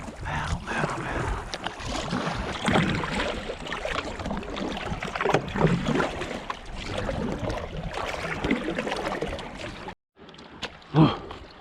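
A kayak paddles through rough water at the Cave Run Lake spillway, with splashing strokes and rushing water close to the microphone, gusts of wind over it, and a brief drop in sound near the end.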